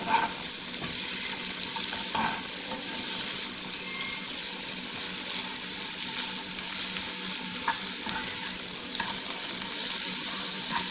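Onion, ginger and garlic fry in a pan for a Kerala-style chicken roast, giving a dense, even sizzle with occasional stirring scrapes, close and unbroken, with no talking.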